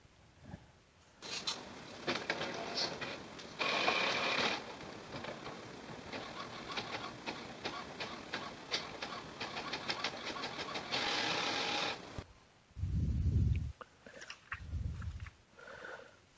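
A desktop printer runs a scan-and-print job on an A4 page, with a long mechanical whirring and patter from about one to twelve seconds that ends abruptly, followed by a few low thumps.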